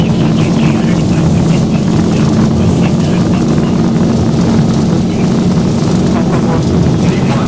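Hong Kong Express airliner engines roaring steadily throughout a takeoff roll at Hanoi, heard from inside the cabin as a loud, continuous low drone with constant rumble.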